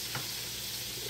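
A piece of blackened chicken breast sizzles loudly as it goes into a hot buttered pan, a dense, even hiss with a faint scrape of stirring.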